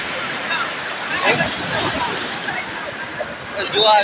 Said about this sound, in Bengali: বাপরে ঢেউ দেখো